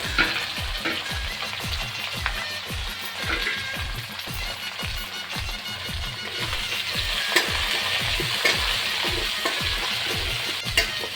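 Curry leaves, fenugreek, onion and chili fry in a pan, crackling in a dense, steady sizzle while a spoon scrapes and stirs in a regular rhythm, close and without talk.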